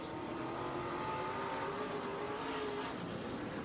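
SRX stock race cars racing at I-55 Raceway, a steady blended roar of engines at moderate distance, fairly faint and constant with no talk.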